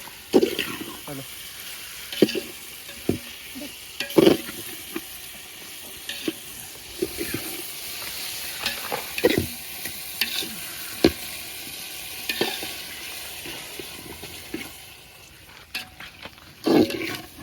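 Chicken sizzles in biryani masala in a pot cooked outdoors, a steady frying hiss with repeated clattering stirs and scrapes, while several people talk nearby.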